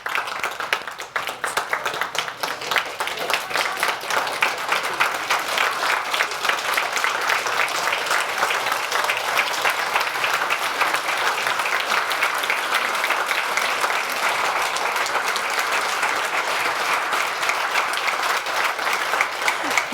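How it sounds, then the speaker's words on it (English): An audience in a hall rises and claps, sustained dense applause from a large crowd that runs loud and even for the full twenty seconds. "People stand up, start looking at people and clapping."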